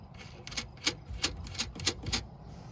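Bolts being screwed back into a Nissan Altima rear tail light housing, a quick run of sharp ticking clicks close by, about eight taps in under three seconds with no talking.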